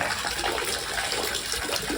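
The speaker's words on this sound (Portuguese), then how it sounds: "aqui vocês estão vendo essa fonte de água puríssima" Steady broadband splashing and trickling of very pure water pouring from a public drinking fountain in the small Aosta Valley town of Bard, running continuously and fairly close for the whole stretch with no talk.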